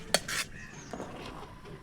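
A spoon scraping and clinking against a pot while squid curry with brinjal is stirred, with a sharp metallic knock near the start and softer scraping strokes after it, close up, no talk.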